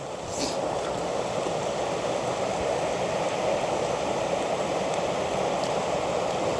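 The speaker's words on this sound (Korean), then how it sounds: "물소리, 바람소리" Water rushing steadily along a mountain forest trail in autumn with wind, a constant broad roar heard close and loud, with no voices.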